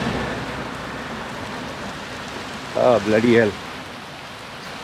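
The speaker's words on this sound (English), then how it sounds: "So, see, it's raining." Rain falling outdoors, a constant broad hiss throughout, with someone briefly speaking over it partway through.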